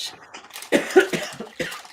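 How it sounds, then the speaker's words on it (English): A person coughs several times in short bursts, close to the mic, with brief pauses between the hacking sounds and no talking. "Now you're gonna make yourself cough."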